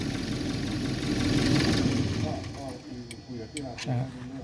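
A car engine idles with a steady mid-pitched hum, then is switched off partway through and fades, leaving quiet ticks while someone talks over it.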